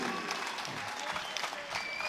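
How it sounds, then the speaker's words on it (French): A ringside crowd at a boxing match applauds the defeated fighter after a third-round KO, a dense, steady patter of clapping from a large room, with an announcer's voice faintly over it. "Et on applaudit également son valeureux adversaire, Vukosin Wabatovic."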